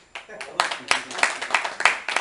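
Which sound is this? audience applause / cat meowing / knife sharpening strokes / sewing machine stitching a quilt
audience applause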